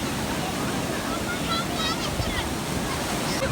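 Large sea waves crash against coastal rocks in a steady roaring wash of surf, mixed with wind buffeting the microphone and a faint voice in the background.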